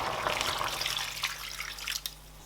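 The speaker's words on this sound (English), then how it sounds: "I am going to add more water and I'm going to cover and keep cooking." Water poured steadily into a cooking pot of Nigerian oha soup with achi after the onions come out, a close, broad splashing rush that fades slightly toward the end.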